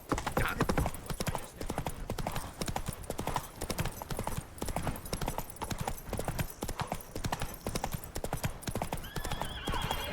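In The Witcher 3, Geralt's horse Roach gallops with loud, close, rapid hoof clip-clops in a steady driving rhythm, with some neighing and snorting mixed in.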